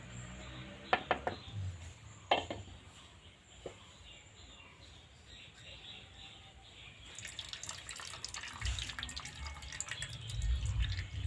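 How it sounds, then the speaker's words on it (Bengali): Excess water drips from sour yogurt strained through a cotton cloth, giving faint, irregular drips and trickles in a quiet room, with light background noise rising toward the end. "টক দইটার যে যতটা জল আছে এক্সট্রা সেটা কিন্তু ঝরানো লাগবে"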